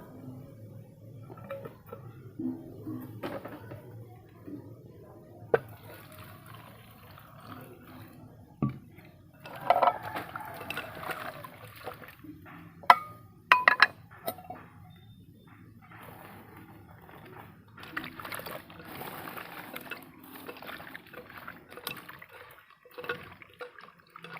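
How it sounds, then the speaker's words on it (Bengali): Water splashing and sloshing as cut pumpkin pieces are washed by hand, intermittent swishes and drips with quieter pauses between bursts of activity. "এই কুমড়ো কাটা আমার শেষ হয়ে গেল, এখন জলে ধোবো।"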